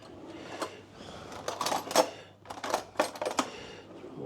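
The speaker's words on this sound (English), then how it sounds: "Get a spoon." Spoon being fetched in a home kitchen, with a series of sharp metallic clinks and rattles of cutlery and a drawer being handled, close and fairly quiet, arriving in irregular bursts.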